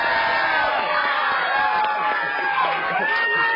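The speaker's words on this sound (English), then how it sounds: "Check out this crowd. They got tons of energy in there." A lively outdoor crowd at a morning live TV report cheers, whoops and shouts continuously, loud and dense throughout.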